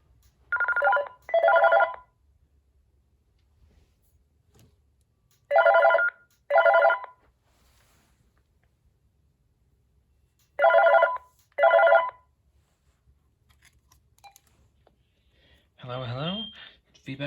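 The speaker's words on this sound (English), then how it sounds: "Alright, let's give it a testing call." A cordless phone on speakerphone during a test call rings in three pairs of electronic trills spaced several seconds apart, followed by a brief voice near the end.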